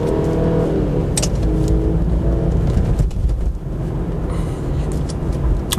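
A 2005 BMW 120i with an automatic gearbox accelerates hard in sports mode, its engine note climbing then dropping at each upshift, heard from inside the car with a loud, steady rumble and no talk.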